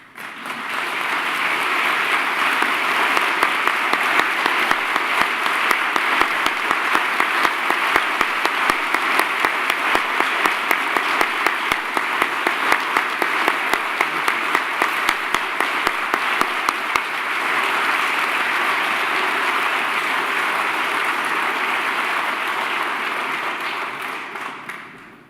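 Sustained loud audience applause at a city State of the City address, greeting an Indianapolis police recruit class as they rise; dense, steady clapping from a large crowd in a hall that keeps up for about twenty-five seconds before fading.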